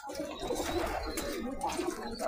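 Pigeons at a desert pigeon farm in Saudi Arabia give soft, low, rolling coos that overlap in a quiet, continuous murmur with no speech.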